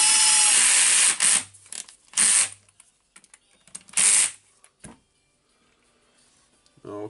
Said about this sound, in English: Just screwing all the six screws here.